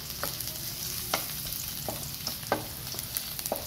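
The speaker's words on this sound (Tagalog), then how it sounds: "lagyan na natin ng langis ang kawali. Painitin. Ilagay na ang ating bawang. Haluin" Garlic sizzles steadily in hot oil in a frying pan while a utensil stirs it, with sharp scraping strokes at irregular intervals over the continuous fry noise; no talking.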